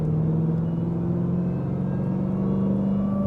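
A 2026 Dodge Durango Hellcat's supercharged HEMI V8 in normal auto mode hums at a steady, muffled idle-like drone, with a faint supercharger whine riding over it throughout.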